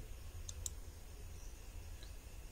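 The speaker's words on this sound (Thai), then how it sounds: "ให้คุณคลิกที่ ลงทะเบียนเพื่อสร้างหน้าเพจ" Mouse click on the register button of a tour-booking website, two quick soft clicks close together near the start over a faint low hum, then a fainter tick later.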